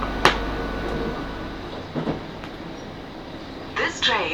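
On board a South Western Railway Class 458 electric train, a steady rolling rumble with occasional clicks and knocks from the wheels, heard from inside the carriage.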